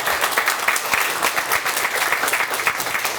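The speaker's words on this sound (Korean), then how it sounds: "감독님 새로 오셨는데 일단 환영의 의미로 박수 한번 치겠습니다." A room of baseball players and staff breaks into steady, dense applause to welcome a newly arrived team manager at his inaugural ceremony, the clapping near and continuous throughout.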